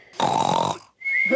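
A cartoon pig's loud, snorting snore, voiced by an actor imitating the sound in a Greek-dubbed Peppa Pig camping episode: one long rasping snore, then a short pause and a second rising snort.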